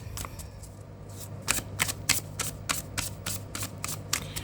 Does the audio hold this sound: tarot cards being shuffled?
yes